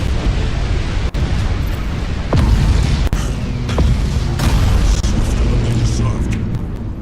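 Explosions and deep booms rumble through a space fleet battle in a video game, a dense, loud, continuous roar punctuated by sharp blasts.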